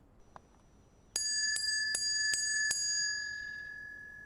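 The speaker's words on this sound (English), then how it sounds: "we've got this rusty doorbell" A rusty doorbell in a video game (Conan Exiles) rings five times in quick succession, the bright tone sustaining and slowly fading afterward, clear and close against quiet.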